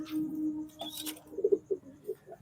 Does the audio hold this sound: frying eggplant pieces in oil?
no